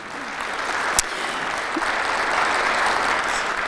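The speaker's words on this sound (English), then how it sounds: "please join me in a round of applause for these wonderful companies" An audience claps for sponsoring companies at an opening-remarks session, steady applause building slightly across the whole stretch with one sharp clap-like crack near the start, no voices over it.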